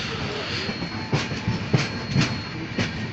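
The Shri Shakti Express pulls into Udhampur railway station, heard from on board. A steady rolling rumble carries a few irregular wheel clacks and knocks.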